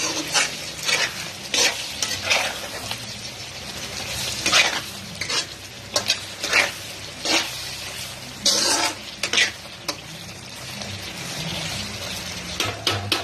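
Chicken liver fry being stirred in a pan with chili powder and spices, a steady oily sizzle broken by repeated loud scraping strokes of a spoon against the pan, close and alone with no talk.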